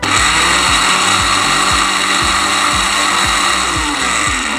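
An electric grinder grinds spices for chaat masala in a loud, continuous whirring roar with a regular pulsing churn as the contents tumble, close up and without talking.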